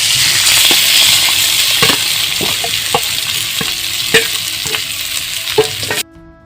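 Marinated chicken pieces frying with browned onions for chicken kala bhuna, a loud continuous sizzle with repeated spatula scrapes and knocks at an uneven pace, cutting off abruptly near the end.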